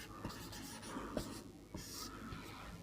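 Pen or chalk writing during a Hindi grammar lesson, with faint scratchy strokes in short irregular bursts against a quiet room hum and no talking.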